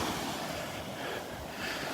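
Ocean surf washes onto a beach in North Naples, Florida, in a steady close rush mixed with wind noise, with no talk.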